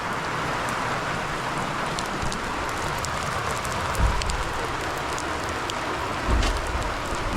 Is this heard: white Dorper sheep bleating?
no